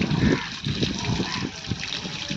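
Splashing, trickling cold water from a tank poured in short bursts for bathing, close by, with a faint voice in the background.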